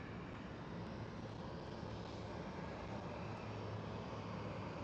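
A KLM Boeing 737-700 airliner at Schiphol produces a steady, broad engine roar that holds at an even level throughout, distant and unbroken.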